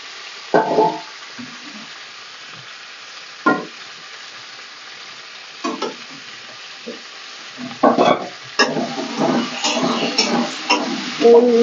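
Elephant foot yam pieces and green chillies stirred in a hot pan, scattered sizzling bursts and scraping stirs that grow busier and more continuous toward the end, with no talking.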